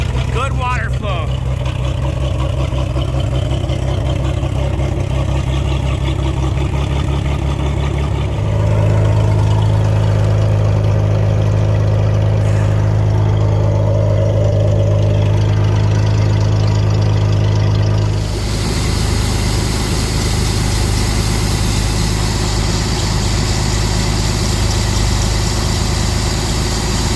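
A boat engine idles steadily while being brought out of winter storage, a continuous low rumble that grows louder and fuller midway, then settles into a brighter, rougher drone. Someone talks over it at times.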